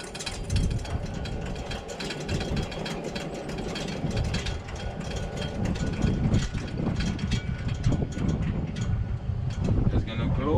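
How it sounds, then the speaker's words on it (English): A Coleman Easi Lite pressure lantern being pumped by hand, thirty strokes, heard as a repeated rhythmic airy pumping, close and moderately loud against a windy, rumbling outdoor background. "I'm just going to do the pumping action,"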